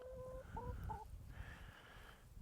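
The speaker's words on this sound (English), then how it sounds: "Chooks are doing well." Backyard chickens in a French countryside run, giving a few close, nasal clucks and a drawn-out squawk in quick succession over a low outdoor background, with no one talking.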